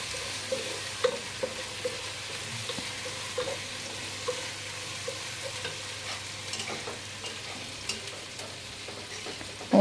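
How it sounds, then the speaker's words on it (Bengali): Meat sautéing in a pan with ginger and garlic, a steady close sizzle and hiss with occasional stirring scrapes, no talking. "আমি আদা রসুন দিয়ে দিচ্ছি। ভালো করে কষিয়ে নিচ্ছি।"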